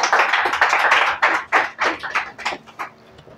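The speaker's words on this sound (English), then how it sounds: "So give a huge round of applause for him," A small audience at a valediction and prize distribution ceremony claps for a former student, with scattered, uneven bursts that thin out and fade toward the end.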